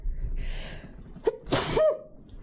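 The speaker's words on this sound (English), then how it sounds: "I'm gonna sneeze." A single close sneeze from a person, with a quick sharp intake of breath followed by a loud burst and a brief trailing voiced sound, in an otherwise quiet room.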